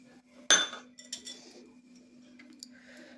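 A spoon clinks once sharply against a vessel while ghee is added to semolina, followed by a few lighter taps and ticks, quiet and close over a faint steady hum.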